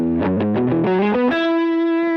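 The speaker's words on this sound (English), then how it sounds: "if I turn the distortion of it or the fuzz knob all the way to 0," Electric guitar played through a fuzz pedal with the fuzz knob turned to zero, giving a loud, buzzy, still-fuzzy tone: a quick run of picked notes ending in a sustained ringing note.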